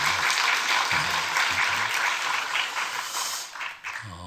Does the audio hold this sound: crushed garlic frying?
no